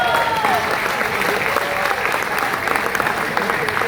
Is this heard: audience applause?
yes